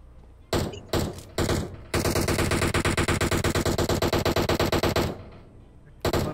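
Automatic gunfire rattles in a mobile battle royale shooter: a few short bursts, then a long, loud, rapid stream of shots lasting about three seconds, with one more burst at the end.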